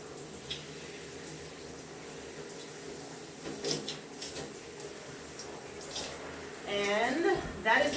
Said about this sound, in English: And give it one last rinse.